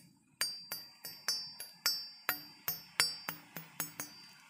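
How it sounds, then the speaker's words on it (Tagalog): Metal barong junggayan blade with a 20.5-inch edge and 1 cm spine, struck repeatedly, giving about fifteen sharp ringing taps in an uneven rhythm, each with a bright metallic ring that decays quickly, close and alone. "Yan ang tunog ng ating blade."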